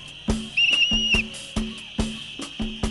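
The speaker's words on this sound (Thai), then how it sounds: "เอาเป่านกหวีดช่วยกันเป่านกหวีด" Someone blows a whistle in one shrill, sustained blast, heard clearly over a steady rhythm of thumping beats that runs through the whole stretch.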